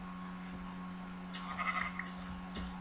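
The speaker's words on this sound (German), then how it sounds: "Darum hole ich mir jetzt einfach mal das Schaf da." Sheep bleat softly in the Minecraft video game, with a few short calls over a steady hum and background tone, faint and with no talking.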